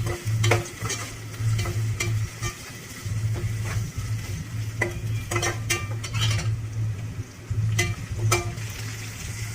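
Onions sautéing in a pan until golden brown, a constant sizzle broken by repeated sharp scrapes and clinks of a spoon stirring against the metal, close and moderately loud.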